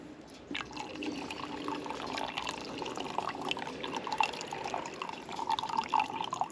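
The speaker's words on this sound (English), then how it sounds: "trickle it down the spout" Cold water trickles down the spout of a coffee pot: a faint, continuous pouring and dripping patter, fairly quiet and steady throughout.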